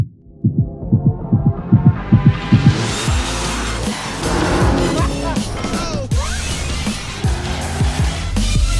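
A loud 2021 BMW M3 Competition engine throbs in rhythmic pulses, then revs hard as it burns rubber, its pitch climbing and dropping repeatedly through gear changes, close by.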